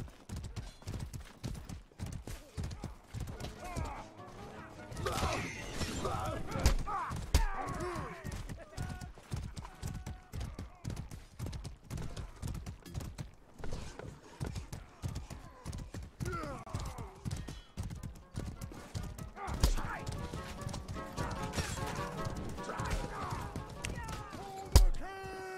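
Rhythmic hooves clip-clopping at a steady gallop, with an occasional whinny and game sounds under the hoofbeats.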